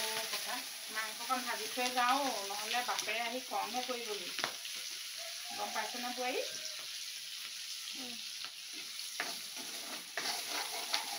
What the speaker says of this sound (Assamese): মাংসকণ ভাজি থৈ যাওঁ